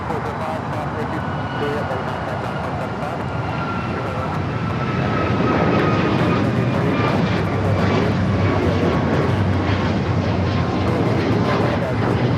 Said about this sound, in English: This is United Airlines flight 8120. It's a MAX 9.